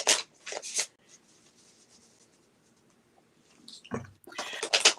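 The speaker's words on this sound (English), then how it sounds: "I hope that shuffling isn't too loud." Playing cards are shuffled close to the microphone in short bursts of riffling and rubbing, a quick flurry at the start, a pause of soft rustle, then another burst at the end.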